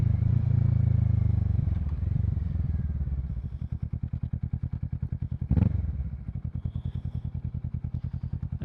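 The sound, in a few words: Kawasaki Z650 motorcycle with Yoshimura Alpha exhaust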